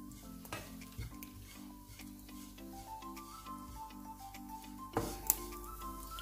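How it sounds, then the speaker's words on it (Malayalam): Grated coconut and curry leaves fry in coconut oil in a pan, giving a steady low sizzle with light stirring scrapes and a few clinks, one sharper knock near the end, with tonal music playing underneath. "ശകലം എണ്ണ ഒഴിച്ചിട്ട് അതിൻ്റെ അകത്തോട്ട് തേങ്ങയിട്ട് ഈ പാകത്തിന് വറുത്തെടുക്കുന്നു."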